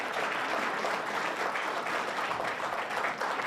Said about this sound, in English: Let's give another round of applause to our district attorneys.